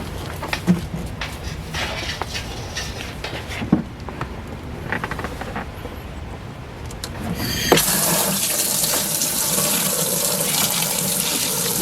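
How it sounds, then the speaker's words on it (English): An electric water pump pushes rainwater into a portable washing machine: first a gurgling, splashing trickle, then a sudden louder, steady rush of spraying water that continues to the end. "So rainwater here, put the water pump in, and run it to the machine."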